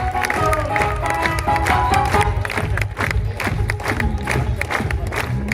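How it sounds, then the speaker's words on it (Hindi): An audience at a lifestyle company achievement event and product launch bursts into loud, sustained applause and cheering, with clapping and shouts filling the whole stretch. "एक बार जोरदार तालियां यार।"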